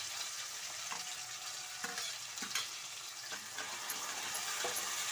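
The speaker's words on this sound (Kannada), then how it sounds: "ಈರುಳ್ಳಿ ಚೆನ್ನಾಗಿ ಫ್ರೈ ಆಗಬೇಕು" Onions and tomatoes frying in a pan for rajma curry give a steady, close sizzle with occasional stirring scrapes and clinks, and no voices.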